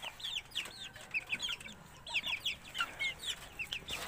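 Hulu and Texas breed chickens cluck in quick, overlapping bursts, a busy flock heard at moderate distance in a rhythmic stream of short, sharp calls.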